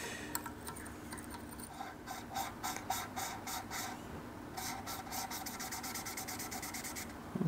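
A BMW N54 engine valve lapped against its seat without abrasive gives a dry, rhythmic rasping rub in quick bursts, close and fairly quiet, running throughout.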